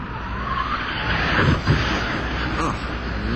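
Replay of a hard qualifying crash by Terry Labonte's stock race car at the 2004 MBNA 400: a sustained roar of engine and tire noise with a sharper impact burst midway, under crowd and commentary ambience.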